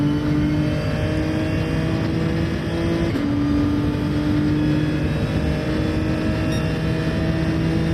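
A Toyota Supra engine in Gran Turismo 7 drones steadily at high revs, its pitch holding almost level with small shifts between gears, and it is loud and constant throughout with no talking.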